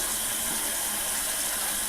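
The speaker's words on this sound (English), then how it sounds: "I'm going to run just a little bit of warm water and styrofoam bowl" Warm water runs steadily from a tap into a styrofoam bowl, a close, even hiss of flowing water with no talk.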